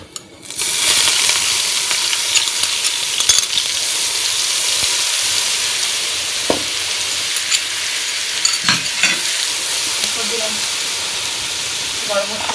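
Ginger garlic paste sizzles and fries in hot oil for chicken biryani, a steady close hiss with occasional clinks and stirring scrapes from a utensil against the pot.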